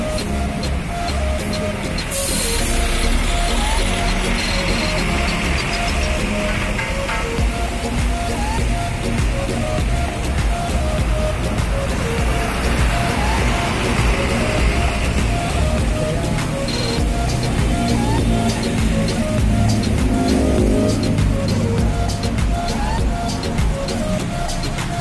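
A Handoyo intercity bus pulls away on departure, its broad engine rumble and hiss steady and fairly close throughout, with ambient noise but no clear speech.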